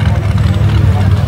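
A 625 cubic inch Chevy engine in a rear engine dragster rail at a nitrous drag race, a loud, steady low rumble from a distance beneath an announcer's voice.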